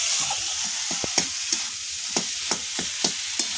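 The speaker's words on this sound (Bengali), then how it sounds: "এরকমভাবে নেড়ে চেড়ে শুকনো শুকনো করে কষিয়ে নেবো" Potato is stir-fried with roasted spice powder in a pan for egg chops, a soft continuous sizzle broken by a regular series of sharp spatula scrapes and taps, close and alone without voices.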